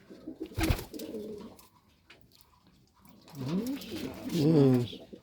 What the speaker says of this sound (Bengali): এটা টেম করা কবুতর, তার হাতের উপরেই।